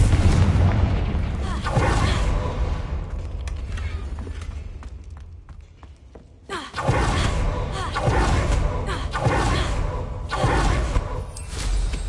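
Repeated Confringo fire spells burst in Hogwarts Legacy, heavy booming blasts with crackling tails that recur every couple of seconds over game ambience, with a brief quieter lull midway.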